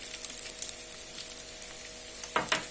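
Rice grains toasting in a pan for maqluba give a steady, quiet sizzle, with a louder burst of stirring or scraping near the end.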